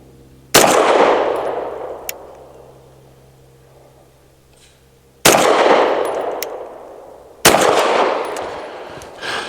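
Three loud, sharp gunshots from a Tisas 1911 Duty B9R pistol firing Federal HST 124-grain rounds, each crack followed by a long echoing decay; the second and third shots come closer together.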